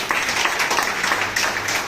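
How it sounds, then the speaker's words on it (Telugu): An audience at a spiritual gathering claps loudly in a continuous, dense patter of many hands, with no single clap standing apart. "వీళ్ళకి స్పెషల్గా చప్పట్లు కొట్టండి ఒకసారి గట్టిగా"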